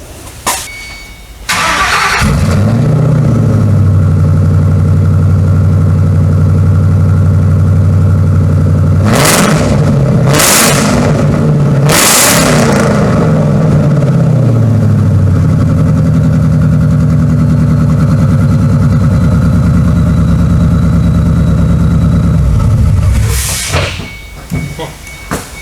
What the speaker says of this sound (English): we'll fire it up, and hear what it sounds like with that resonator in it